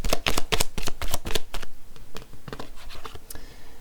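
Belline oracle cards are riffled and shuffled by hand close up, a quick run of crisp flapping bursts followed by softer, sparser card slides, no talking.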